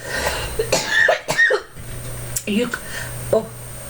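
Several sharp coughs in quick bursts, close to the microphone, with a faint low hum in the background.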